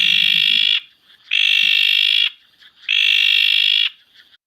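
Recorded frog call played back three times, each a loud, sustained, harsh buzzing trill lasting nearly a second, separated by brief silent gaps.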